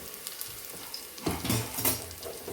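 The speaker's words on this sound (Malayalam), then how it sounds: "അതിന് എണ്ണ വെച്ചു, ഉള്ളി ഇട്ടു" Sliced onions hit hot oil for unsweetened kalathappam, starting a sudden loud sizzle partway through after a quiet, faintly clinking stretch, with crackling bursts and light pan clatter continuing to the end.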